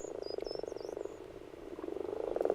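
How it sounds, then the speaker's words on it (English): Grass frogs croaking while mating in cold early-spring Alpine water in Bavaria, a steady chorus of rapid low croaks repeating throughout, with faint bird calls above. "Grass frogs are mating"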